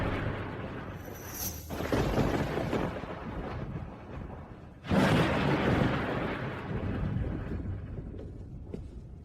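Thunder rumbles through a dark night, with a low rolling roar that swells and fades, then a second louder crack and rumble breaking in about halfway through and trailing off slowly.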